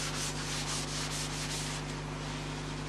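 Steady, soft rubbing of abrasive against a hand-turned wooden fruit bowl spinning on a lathe, with Yorkshire Grit paste working the surface under a constant low motor hum.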